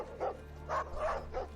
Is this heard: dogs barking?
yes